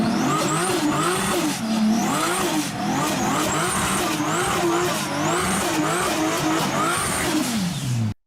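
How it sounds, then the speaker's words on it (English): Turbocharged car revving hard with a repeated high whistling spool and blow-off valve venting on each lift, engine note rising and falling in steady cycles, loud and close throughout with no talk. "Most people know blow-off valves for the amazing sound qualities that they bring"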